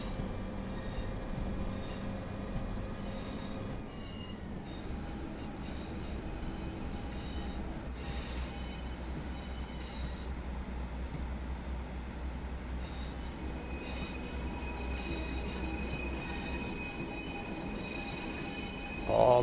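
Pacer diesel train wheels squealing on the Blackpool Branches line in snowy Train Sim World 4, a thin high-pitched screech over a steady low rumble of rolling stock, no talk.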